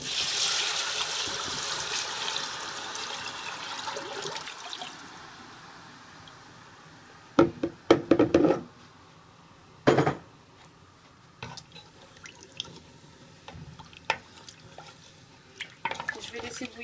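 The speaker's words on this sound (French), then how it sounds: "je vais rajouter 2 litres d'eau" Two litres of water poured into a cooking pot of sweated onions while making thieb guinar, a rice and chicken dish: a steady close rushing pour for about five seconds, then scattered clinks and drips.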